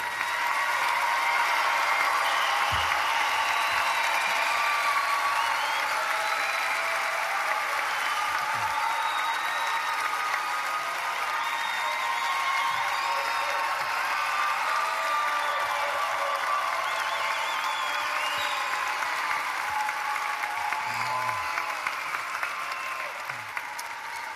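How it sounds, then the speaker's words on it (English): Sustained applause from a large crowd honoring graduates at a university spring commencement ceremony: dense, steady clapping filling a big hall, loud and unbroken for the whole stretch, with faint scattered cheers. "Let's have one more big round of applause for all our graduates today."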